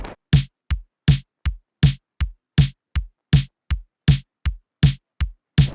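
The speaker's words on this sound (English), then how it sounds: "I'm going to grab the kick, heel, and snare dry from my Prolog drum kit" Dry kick and snare hits from a Prolog drum kit lay down a simple, steady post-punk pattern: alternating punchy low thumps and sharp cracks repeating evenly and loudly with no other sounds.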